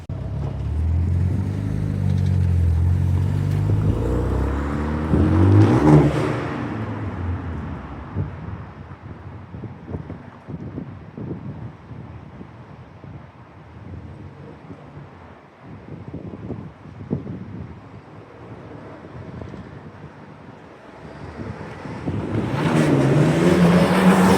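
A Renault Sport Megane 225 hatchback with 77,000 miles on it drives along, its engine and road noise rumbling steadily throughout with gusts of wind buffeting the microphone, louder at the start and end.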